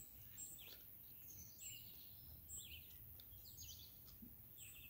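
Wild birds chirp outdoors in faint, scattered bursts of high tweets over a soft low ambient hum, distant and quiet with no voices.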